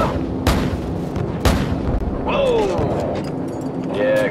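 Two deep, heavy booms of gunship fire from Call of Duty Modern Warfare land a second apart, followed by rumbling aftermath and faint radio chatter underneath.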